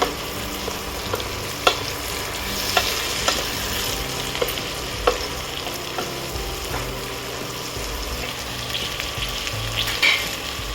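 Sliced spiny gourd stir-fries in a hot pan, a loud continuous sizzle punctuated by scattered scraping and tapping of a spatula as it is tossed, close up with no talking.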